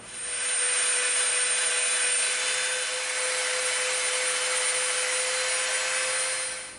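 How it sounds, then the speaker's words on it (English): A Dremel rotary tool with a smoothing bit softens the edges of EVA foam, giving a steady high-pitched whirring whine that holds evenly throughout, close and fairly loud. "We're going to come back in with our smooth bit and our Dremel, and we're going to soften these edges up all the way around the inside and the outside"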